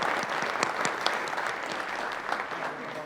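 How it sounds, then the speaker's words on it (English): Crowd claps in warm, steady applause at a university distinguished alumni awards ceremony, fairly close and fading slightly toward the end. "Please join me in a round of applause to thank Chartwells for our delicious brunch"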